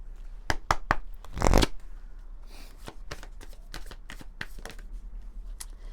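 Oracle cards being shuffled by hand in a series of quick riffling bursts, close and fairly soft, with one louder flurry partway through and no talking.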